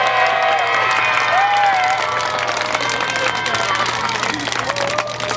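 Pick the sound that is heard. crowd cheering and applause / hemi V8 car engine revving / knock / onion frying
crowd cheering and applause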